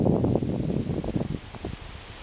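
A gust of wind on Mount Mansfield in Stowe, Vermont sends autumn leaves rustling in a loud, close, crackling rush that gradually thins and fades toward stillness.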